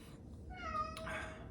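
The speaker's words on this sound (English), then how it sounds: "That's my cat. He wants to get out." A pet cat named Spike lets out a single drawn-out meow, fairly close and rising then falling, asking to be let outside.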